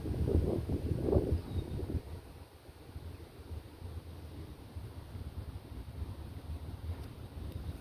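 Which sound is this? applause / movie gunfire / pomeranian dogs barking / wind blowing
wind blowing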